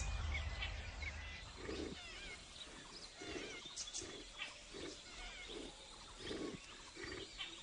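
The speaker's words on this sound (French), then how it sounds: "Le tigre dominant qui contrôle le point d'eau est toujours avec sa femelle." A Bengal tiger at a jungle waterhole in India lets out a series of low, moaning grunts and growls at regular intervals, fairly faint against a busy background of insects and birds.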